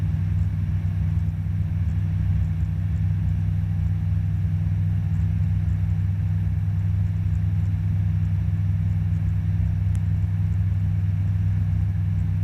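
Light training aircraft engine on an introductory flight from Edenvale Aerodrome, a steady close droning rumble inside the cabin as power is increased, continuous with no talk.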